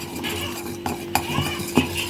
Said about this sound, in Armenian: Ձևով տես տակից որ խառնում եմ